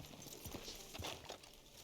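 Tame horses' hooves clip-clopping, soft intermittent steps heard faintly over a steady outdoor background.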